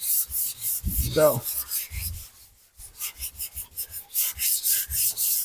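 Body filler being sanded by hand on a 1979 Mustang hood, with steady rhythmic rubbing strokes up close, a brief pause midway, then a quicker run of strokes.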